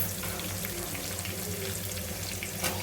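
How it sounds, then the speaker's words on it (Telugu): Chopped onions frying in a pan for a cabbage fry, a steady dense sizzle that holds evenly throughout, close and moderately loud with no voices. "ఈ ఆనియన్స్ కూడా మంచిగా ఫ్రై చేసుకోవాలన్నమాట."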